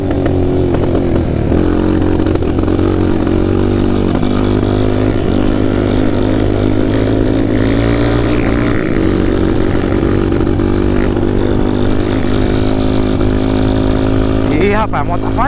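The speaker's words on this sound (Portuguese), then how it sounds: "Ih, rapaz, a moto tá falhando." A Honda CRF dirt bike engine runs on a trail, a loud, continuous buzzing drone with a slightly uneven, stumbling quality as it misfires, while riders talk over it throughout.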